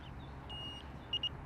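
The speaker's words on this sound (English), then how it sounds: "a single button that you push, and it beeps its way into life" A CaddyTrek R2 golf caddy and its remote give short electronic beeps as they power on, a steady tone near the middle and two quick chirps toward the end, faint over a low background hum.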